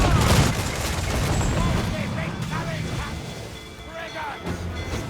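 Ship cannons firing in Assassin's Creed Black Flag, a loud rolling barrage of booms and blasts across the clip, with shouting voices and battle noise mixed in close by.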